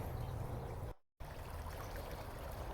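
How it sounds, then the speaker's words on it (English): River water flows in a steady, close rushing wash near a bridge in an urban setting, broken by a brief dropout before the continuous flow resumes. "There's the river coming in."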